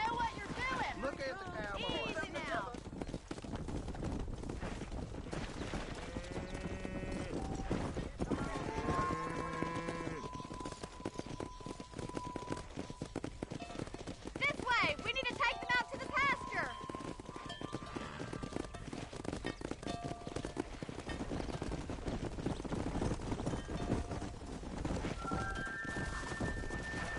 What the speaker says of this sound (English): Get back on that horse. We got work to do.